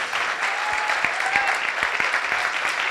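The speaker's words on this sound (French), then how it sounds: "on les chauffe, on les applaudit" Steady applause from an audience at a startup pitch event, dense clapping throughout with a few sharper claps standing out.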